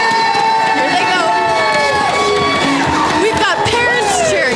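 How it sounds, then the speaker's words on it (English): Parents and teachers cheer and whoop loudly at a school fun run as the children set off, a dense crowd of shouting voices mixed with excited calls close by. "We've got parents cheering. We've got teachers cheering."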